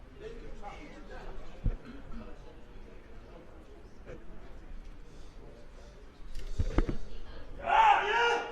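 Sparse audience applause follows a lift at the 2015 IPC Powerlifting European Open Championships in Eger, men's -59 kg class, rising briefly near the end over a quiet hall murmur.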